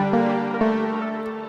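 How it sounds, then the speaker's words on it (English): Bell 5 synth bell preset for a dark trap beat, with low cut and high cut. A sustained tonal bell chord has soft repeated attacks and rings alone at moderate level. "The next sound I'm going to use is Bell 5 right here, and it sounds like this."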